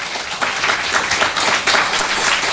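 Church congregation applauding during a French-language sermon, a dense, steady wash of clapping hands that carries through the whole moment at a fairly loud level with no talk over it.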